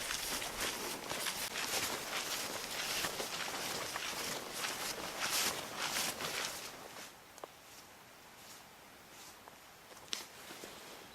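Hiking boots slosh and squelch through mud on the Camino trail out of St Jean-Pied-de-Port, a steady run of close, wet footsteps that grows slightly softer partway through.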